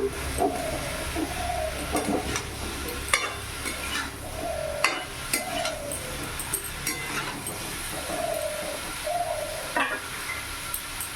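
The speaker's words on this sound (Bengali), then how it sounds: "ভালো করে নাড়াচাড়া করে মিশিয়ে নেবো" Mixed vegetables are stirred in a frying pan, the spatula scraping in a steady repeating rhythm over a constant soft sizzle, close and with no talking.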